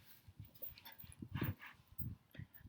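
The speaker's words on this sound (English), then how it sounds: "Sorry, my dogs were playing a little bit too rough." Several dogs playing rough indoors, with short whimpers, yips and low growly barks coming in quick irregular bursts, fairly close and moderately loud.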